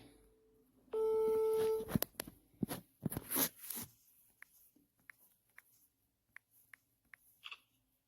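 A telephone line gives a steady electronic tone for about a second while a call is placed again. Quiet clicks and taps follow, with a few faint ticks near the end.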